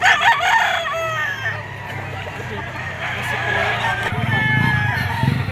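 A Boston Sweater bloodline stag and other roosters at a gamefowl market in Lipa, Batangas crow and cluck nearby, while someone talks over the birds throughout.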